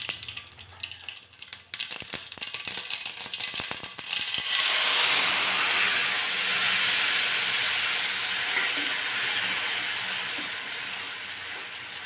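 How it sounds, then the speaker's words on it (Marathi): Mustard seeds splutter in very hot oil in a pan on a gas stove while tempering for a Marathi home-style dish, a steady loud hiss and crackle building after some clatter. "तेल चांगलं कडकडीत तापवून घेतलं, त्यामध्ये मोहरी घातली आणि मोहरी तडतडल्यानंतरच"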